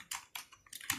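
A computer keyboard typed on at close range, with four or five quick, crisp keystrokes in a short, slightly uneven burst.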